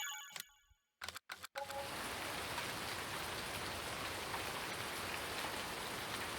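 Steady rain in Farming Simulator 2019 hisses evenly across the whole clip after a few brief clicks and cuts at the start, with no voices over it.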